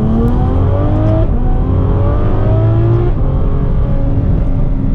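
A Ferrari engine roars loudly and continuously, revving up and down with rising, shifting pitch over a deep rumbling bed.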